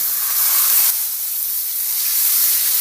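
Steak sears in a hot pan with a loud, steady, bright sizzle and hiss, close and continuous with no talk over it.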